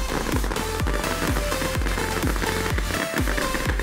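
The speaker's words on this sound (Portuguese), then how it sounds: "Os fogos não pararam. 3 horas de fogos e dos caros, tipo Walt Disney." A dense, nonstop barrage of carnival fireworks in Mazatlan, with loud booming bursts repeating about every half second and crackling, whistling streaks in between, filling the air continuously without any voices.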